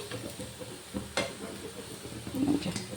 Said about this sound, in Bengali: এইরকমভাবে আমি বাকিগুলোও ভেজে নিচ্ছি।